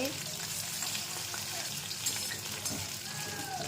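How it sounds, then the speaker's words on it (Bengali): Oil sizzles steadily as chicken pakoras deep-fry, a constant crackling hiss with occasional light clinks and faint background noise. "তাই চিকেনগুলো একটু পকোড়া মতো ভেজে নিচ্ছি"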